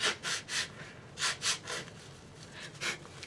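Someone blows their nose several times after a neti pot saline rinse, a run of short, forceful breathy blasts in uneven pairs, close to the mic with brief pauses between.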